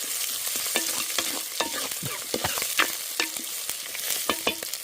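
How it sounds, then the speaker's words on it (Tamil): Onions and green chillies sautéing in a hot pan for a spicy country-chicken curry, a continuous crackling sizzle broken by repeated scraping strokes of a spoon stirring, close and alone without talk. "நல்லா வந்து வெங்காயம், பச்சை மிளகாய் வந்து வதங்கி கொண்டு வருது"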